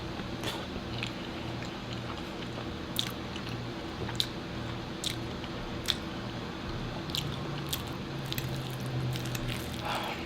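Close, quiet eating of homemade chilaquiles: soft wet squishing and chewing with a few crisp crunchy bites scattered across the stretch, no talking.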